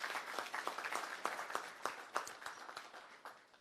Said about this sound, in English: let's give a round of applause to everyone who works here at the center every day